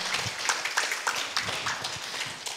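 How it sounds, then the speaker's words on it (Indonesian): Faint, scattered clapping from a seminar audience at Universitas Ahmad Dahlan in Yogyakarta, a thin patter of individual hand claps heard at a distance. "Mari kita tepuk tangan yang meriah untuk kita semua."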